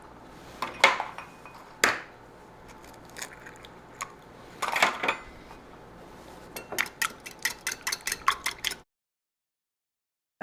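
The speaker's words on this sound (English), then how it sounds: "We're going to add 3 eggs. I'm going to beat them up a little bit." A whisk or fork clatters against a bowl while three room-temperature eggs are beaten for a Southern buttermilk pie, with irregular bursts of clinking and tapping, then a sudden silence near the end.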